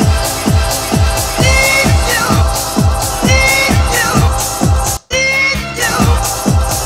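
A 1998 house track layered over the original sample, with a loud, steady pounding kick beat under a vocal and music bed and a brief dropout near the end.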